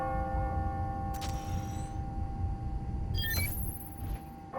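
Bells in a video game ring out on the hour: two struck chimes about two seconds apart, with tones that linger over a low steady background rumble.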